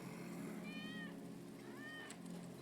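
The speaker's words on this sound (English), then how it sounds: "That's Wedge's cat." A cat meows twice in Final Fantasy VII Remake, two short rising-falling calls about a second apart, fairly soft, over a low steady game ambience hum.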